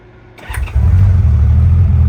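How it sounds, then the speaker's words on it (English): A Honda Goldwing motorcycle engine starting up during carburetor synchronizing: a brief starter crank that catches into a loud, steady close idle rumble, no talking. "another good way you can tell is if you go and you start it back up."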